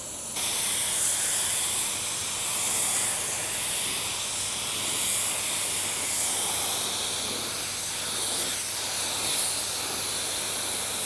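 A spray gun applies clear coat over a tri-stage pearl Nissan Altima with a continuous close, loud airy hiss that holds steady for about ten seconds, swelling slightly with each pass.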